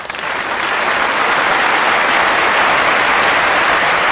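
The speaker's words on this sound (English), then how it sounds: "I felt that the eggs needed a round of applause, so I gave them" A loud, steady round of clapping swells up in the first half second and holds evenly to the end, as if from a small crowd.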